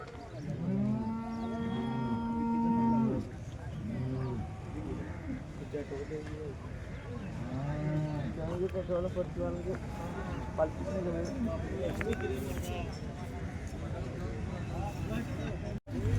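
Several bulls moo in long, deep calls, one after another, at the Peth Vadgaon bull market, over a busy background of people talking and market noise.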